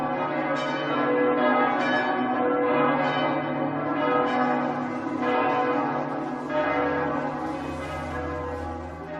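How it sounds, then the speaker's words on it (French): Many bells of a sunken temple ringing together in a rich, sustained peal, with overlapping strikes and long resonant tones filling the space, loud and close, with no voice. "toutes les cloches du temple englouti se mirent à sonner"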